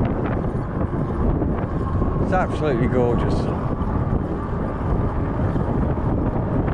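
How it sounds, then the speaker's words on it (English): Wind buffets the microphone outdoors on an e-bike outing, a constant low roaring rumble that persists beneath a man's brief speech. "It is a bit windy here."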